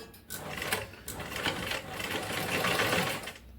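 A sewing machine stitches a blouse neck piece at a tailoring class, a close, steady whirring run that carries on for several seconds before easing off at the end.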